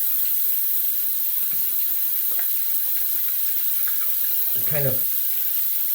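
Shaving soap puck rinsed under a running tap, a steady hiss of flowing water with a few soft splashes and knocks, and a brief spoken voice partway through.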